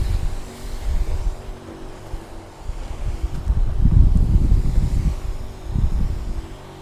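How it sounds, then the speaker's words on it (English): Breezy wind gusts across an outdoor yard, buffeting the microphone with a low, rumbling roar that swells and eases over several seconds, with no talking. "Now down here it gets very breezy"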